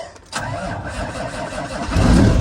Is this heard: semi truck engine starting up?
yes